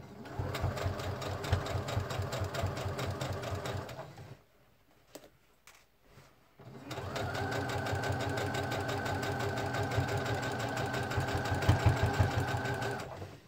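A sewing machine runs close and steady, stitching along seams in paper piecing with a fast rhythmic mechanical chatter. It stops for about two seconds with a few small clicks, then resumes for a long continuous run.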